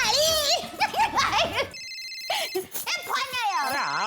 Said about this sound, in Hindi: फोन आया।